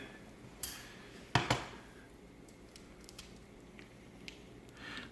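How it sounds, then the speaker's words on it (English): Ground beef dropped into a pan for chili macaroni, a few soft, wet squishing thumps close together near the start, then a quiet background with faint clinks. "Just putting in the ground beef."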